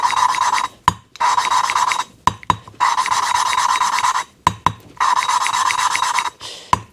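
An engine valve from a Bombardier Quest 500 ATV is lapped with a suction cup: repeated gritty grinding strokes, close and fairly loud, broken by short pauses.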